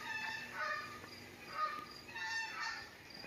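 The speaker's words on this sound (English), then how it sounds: "a couple of geese overhead" A couple of geese honk overhead outdoors, their faint, distant calls repeating in a loose rhythm across a few seconds with no voices.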